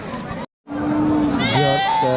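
Sheep bleating at a busy livestock market, with several calls following a brief gap amid crowd chatter and nearby voices talking.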